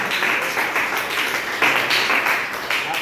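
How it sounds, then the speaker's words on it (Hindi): A classroom of children claps for young classmates showing their artwork, a loud nearby patter of hands that swells in several uneven surges. "तालियां हो जाए इनके लिए।"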